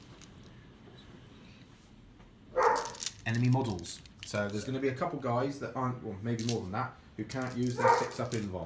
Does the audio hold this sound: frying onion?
no